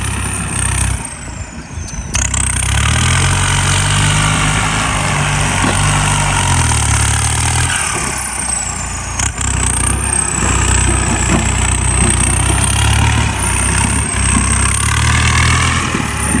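An Isuzu Mu engine fitted with a new turbocharger runs continuously and loudly up close, a dense rumbling idle with a high turbo whistle that sweeps and shifts as the revs change.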